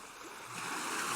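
Soft ocean waves wash steadily in the visual novel Remember11, a continuous low surf hiss that swells slightly toward the end, with no voices.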